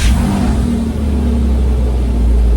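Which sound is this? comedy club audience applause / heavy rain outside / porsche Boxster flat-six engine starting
porsche Boxster flat-six engine starting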